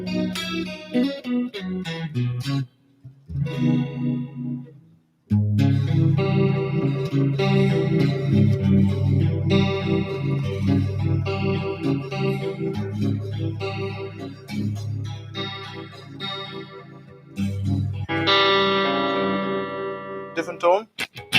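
A Fender Player Series Stratocaster electric guitar played through effects, loud and sustained with chords and single notes, pausing briefly twice, its tone shifting between cleaner and more processed sounds.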